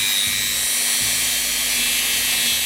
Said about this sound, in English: We'll start running over these parts now with our Dremel. Turn it up onto about half speed.